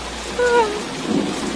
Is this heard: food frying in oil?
no